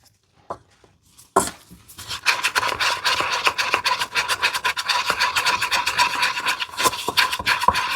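A tool scrapes the sides of a container of highly pigmented paste with a fast, rhythmic series of close scratching strokes, after a few isolated taps at the start. No voices.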